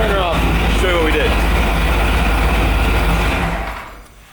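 Ford Bronco with a new exhaust idling with a steady low rumble close by, then shut off so the sound dies away into quiet; a voice speaks briefly over the idle early on.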